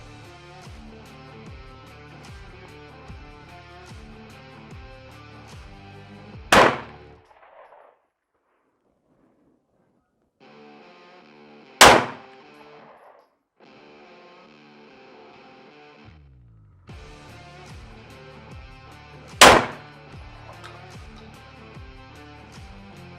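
Three loud, single gunshots crack out several seconds apart at a shooting range target, each a sharp blast with a brief tail, separated by stretches of buzzy background and near silence.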